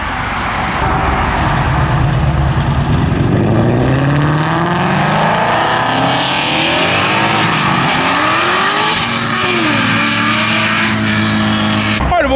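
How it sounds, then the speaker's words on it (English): A Ford Mach 1 and a Chevy SS roll out of a Texas car show, loud engines rumbling and revving steadily with rising pitch sweeps as they pull away close by, continuous throughout. "Got a couple guys rolling out here before we go. Little Mach 1 and the Chevy SS."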